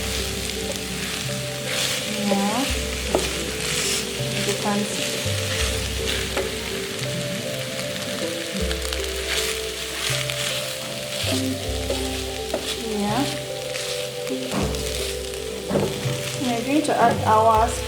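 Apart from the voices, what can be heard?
stir-frying rice in a pan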